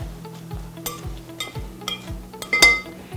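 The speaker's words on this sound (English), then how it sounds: "I'm just gonna take a quick spoon and mix these around the best I can" A spoon stirs potatoes in a hot pan, clinking and scraping against the metal in repeated strokes over a low sizzle, with a sharper clank near the end.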